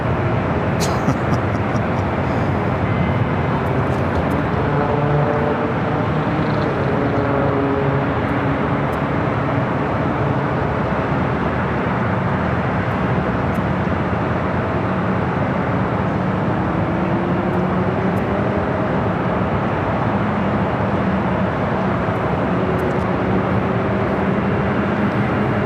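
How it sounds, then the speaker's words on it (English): Steady, dense roar from LAX with aircraft engines and road traffic blending into a continuous wash of noise, droning evenly throughout without a break. "Just the sounds of the noises here at LAX is enough to make you want to take a nap"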